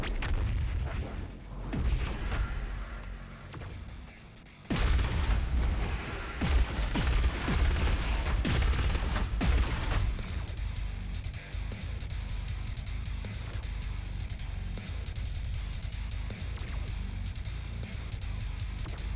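BFG 10,000 firing in Doom Eternal: deep booming blasts and rumbling mechanical roar, with a big surge near five seconds followed by sustained heavy low-end noise and scattered impacts.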